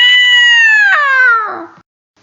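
A single long, loud cat meow fills the clip as a sound effect in a children's story, falling slowly in pitch and fading out before a short silence.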